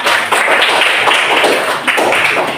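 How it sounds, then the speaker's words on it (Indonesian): A class of students claps hands after a counting activity, producing a loud, close, continuous patter of claps with a few sharper hits. "Oke, tepuk tangan."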